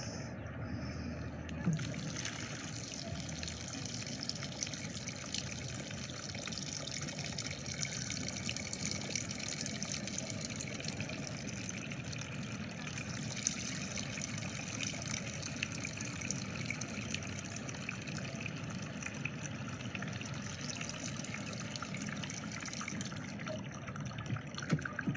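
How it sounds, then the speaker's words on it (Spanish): Water is poured onto soil in a tub to simulate rain, producing a faint, steady trickling and splashing wash that continues evenly throughout with small occasional drips. "vamos a simular una lluvia"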